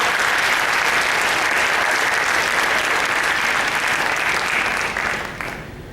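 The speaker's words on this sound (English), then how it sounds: "Please give them a round of applause." An audience at a moot court final competition applauds, a dense, loud and continuous burst of clapping that fades out near the end.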